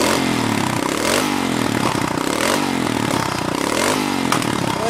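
A motorcycle engine revs hard and steadily in a loud, sustained roar with rising and falling pitch, close by, during a mountain ride.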